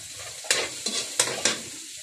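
Sizzling aromatics, the ricado or sahog, sautéed in a hot pan, with four sharp bursts of frying hiss as the ingredients are stirred, close and fairly loud over a steady background sizzle.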